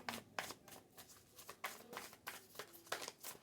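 Tarot cards are shuffled by hand in a quick run of soft, riffling bursts and taps, close and faint, with no voices.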